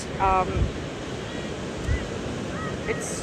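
Ocean surf washing on an Outer Banks beach under a steady breeze that buffets the microphone, with brief faint bird or voice-like calls over the continuous wash of waves.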